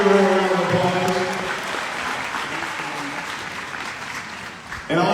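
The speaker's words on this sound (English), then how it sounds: "Let's give Kendra a big round of applause" Audience applause for volunteer Kendra at an event, a steady mass of clapping that carries on for several seconds and dies down toward the end, with some voices mixed in.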